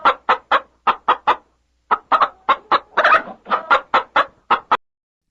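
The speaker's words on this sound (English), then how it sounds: "What sound does a chicken make?" A chicken clucks in a quick run of sharp, separate bursts, pauses briefly, then carries on in a longer busy series, close and loud against silence.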